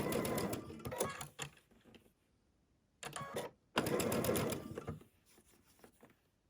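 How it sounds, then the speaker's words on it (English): A sewing machine stitches quilt fabric in short close bursts, running about two seconds, pausing, then a brief run and a longer steady stretch before stopping. "I'm gonna line that fabric up, and I'm gonna sew"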